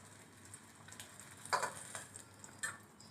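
Eggs coated in turmeric fry in hot oil in a pan, making a faint, soft sizzle broken by a few brief clicks and scrapes of stirring.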